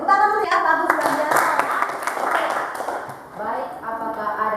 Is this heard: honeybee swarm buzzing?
no